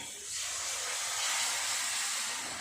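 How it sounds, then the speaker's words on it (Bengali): Coconut milk is poured into hot oil-fried masala in a pan, setting off a loud continuous sizzle and hiss that swells and holds steady. "এবার দিয়ে দেবো নারকেলের দুধটা।"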